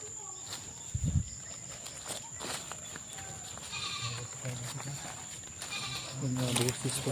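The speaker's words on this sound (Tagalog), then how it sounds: "Kaya may kambing" Goats bleat on a farm in several wavering calls that grow stronger near the end, with footsteps and people talking nearby.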